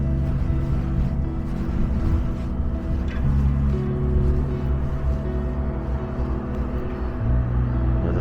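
Big diesel boat engines at a marina give a continuous low, heavy rumble with a steady throb, loud and close and unbroken throughout.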